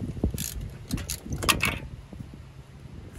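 A wrench loosening 14 mm exhaust bolts on a 2014 Subaru GR STI with an EJ engine, giving a few close metallic clicks and ratcheting clatters over a low shop rumble, with no talking.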